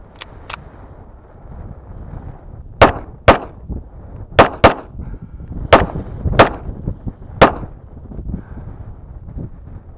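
A pistol fires competition ammunition fed from a Dawson magazine, with about eight sharp, loud shots at irregular intervals and faint wind noise between them.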